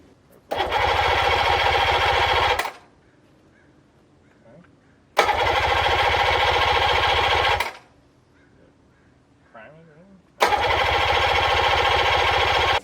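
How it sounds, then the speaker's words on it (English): An outboard boat engine on a Tracker Pro Team 18, hooked to a water hose on shore, cranks in three loud bursts of about two seconds each. Quiet pauses separate the bursts, and faint voices are heard in the gaps. "Then we have the engine right here hooked up. We're going to put the hose on it, and we'll see if it gets running."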